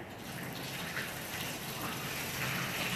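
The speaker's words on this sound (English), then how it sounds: "So I'm going to dump this water out right here." Water from a cooking pot being dumped out, heard as a steady, loud gushing pour that runs unbroken for several seconds, close by and alone.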